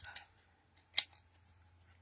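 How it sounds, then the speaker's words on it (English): A pair of scissors snips a foam pad in crafting, a couple of short sharp cuts with one louder chop near the middle, close and otherwise quiet. "Scissors, give you a little chop."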